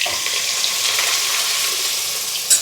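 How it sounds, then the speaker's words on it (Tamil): Fish and masala-spiced water poured into a hot pan for a village-style fish curry, a steady broad hiss of liquid sizzling and bubbling throughout, loud and close, with no talking. "இப்போ மீனை, மசாலா தண்ணி எல்லாத்தையும் இதிலோட சேர்த்துடலாம்."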